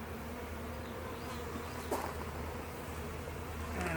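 Honey bees buzz continuously around an open hive during an inspection on a hot day, a dense steady drone with individual bees passing close now and then.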